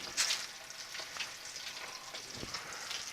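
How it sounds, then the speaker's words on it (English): Shrimp frying in a small amount of oil, a steady soft sizzle with faint crackles and a few quiet clinks, alone with no talk. "I'm just using a small thing of oil, guys, because I'm just cooking, you know, a small amount of shrimp"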